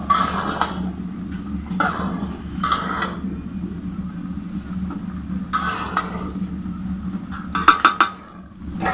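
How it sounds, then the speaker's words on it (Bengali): Vegetables and mung dal cook in a pot with a steady low sizzle and bubbling, broken by stirring scrapes and a few sharp clinks of a utensil against the metal near the end. "সবজি, মুগের ডাল দিয়ে সবজি রান্না করছি।"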